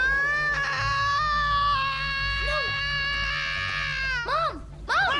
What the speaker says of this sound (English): this is possibly the worst scream I've ever heard in general